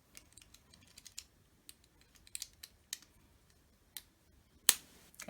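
Small Lego pieces being built into a police boat give off a scattering of light, sharp clicks and taps, close but quiet, irregularly spaced, with one louder snap near the end.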